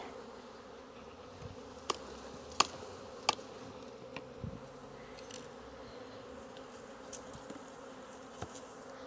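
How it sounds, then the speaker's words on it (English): Steady, dense buzzing of a large, agitated honey bee swarm, continuous and fairly close, with a few sharp clicks and taps scattered through it. "these bees are mad because I've messed them up so much"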